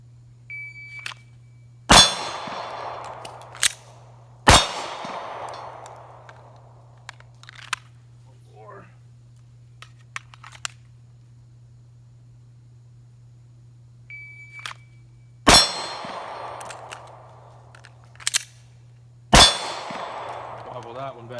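Sig Sauer P365XL pistol fired at a steel target about eight to ten yards away: sharp, loud shots, each followed by a metallic ring, come in two pairs separated by a long pause, with faint smaller clanks and a steady low hum between.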